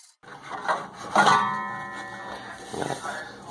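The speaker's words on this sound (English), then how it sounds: "then I'm going to clamp a board on the top, and we'll do the plunge cut through" Table saw blade plunging up through a board clamped on top to cut a zero-clearance throat insert: a close, steady whining tone swells in after a brief rub and holds to the end.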